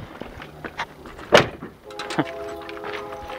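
A regular side door on a GMC Suburban in a salvage yard swings shut with one solid thunk, close to the microphone, while faint talk and rattles sit around it.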